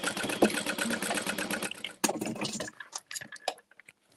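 A sewing machine stitching a seam in a tote bag project, a fast mechanical whir for about two seconds, then a brief restart before it stops among scattered clicks and handling noises, close and fairly quiet.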